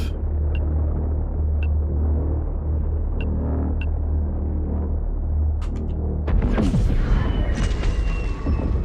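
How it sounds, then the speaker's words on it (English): Low steady engine rumble from a spaceship in EVE Frontier, with a few soft pings over it, then a swelling whoosh and rising tones toward the end. "turn my engine off, slow down"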